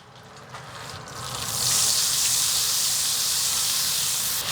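Olive oil and butter heating in a pan over low heat, a hissing sizzle that swells after the first second into a loud, steady bright hiss and stays on alone.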